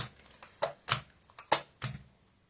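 Four quick, sharp riffling bursts of cards being shuffled, spaced apart with quiet pauses between them, close and fairly crisp.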